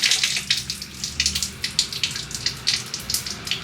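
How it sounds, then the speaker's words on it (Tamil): Boiled soya chunks being rinsed under running tap water, a steady close splashing stream with a rhythmic pulse of water breaking over the chunks, heard alone. "இப்போ இதை நல்லா டேப் வாட்டரில் கழுவிக்கலாம்"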